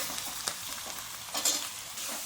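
Fish curry being stirred in a pan, a soft steady sizzle with a few light scraping knocks of a spoon, faint and close with no talking.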